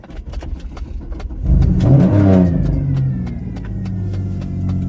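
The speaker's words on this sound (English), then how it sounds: "Listen to that. You want your engine to make some noise." A car engine idles with a rough rumble, then revs hard into a loud, close roar that peaks and settles back to a throaty, sustained drone.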